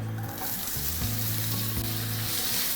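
Chopped onions sizzle in hot coconut oil in a pan, a loud, dense, unbroken crackle with a steady hum beneath and no speech.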